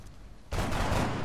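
A single shot fires in the XCOM strategy game as a soldier takes a risky shot, hitting hard at once and then sustaining a loud, dense burst of gunfire with no talk over it.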